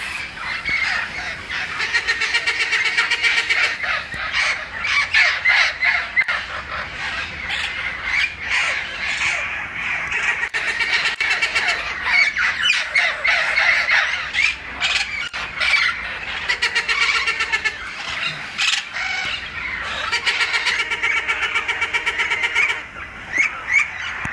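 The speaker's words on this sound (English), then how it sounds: "There's so many parrots." A raucous flock of parrots squawks continuously, many harsh overlapping calls filling the air, loud and close with no break.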